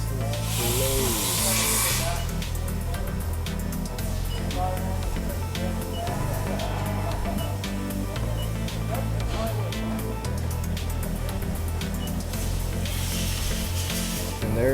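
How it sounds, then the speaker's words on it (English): CNC mill cutting 60-degree countersinks into 3/8 holes in a steel block, with loud continuous machining noise and a hissing spray of coolant over a steady low hum, plus bursts of brighter hiss. "Gonna put a countersink on the back side of all those 3/8 holes I put in and off one."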